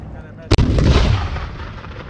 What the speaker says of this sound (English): These are artillery cannons, yes.